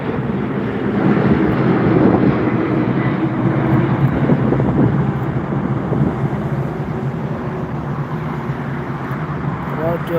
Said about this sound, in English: SAS also refused landing. That's refused landing. Go around.